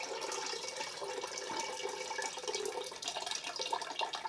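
Tap water runs steadily while onions are rinsed in a pot at a home kitchen sink, a continuous close splashing hiss with no talk.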